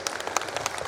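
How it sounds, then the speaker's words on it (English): Brief patter of audience applause at the close of a nuclear business conference panel in India, sparse individual claps at moderate distance in a hall. "I'd like to give a big round of applause to our three panelists"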